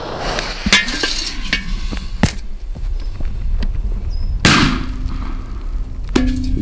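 A sharp bang from a small firecracker exploding under a metal pot, followed by a metallic clatter and scattered knocks in an outdoor setting, with later thuds and faint background noise.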